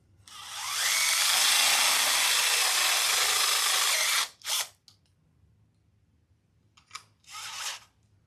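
A power drill with a bit bores steadily for about four seconds during a UPS battery replacement job, then stops and gives two short follow-up bursts, close and loud with no talking.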